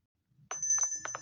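A chiming doorbell in the Toca Boca game, a short bright electronic ring with a few quick tonal pulses, close and clear, with no talking.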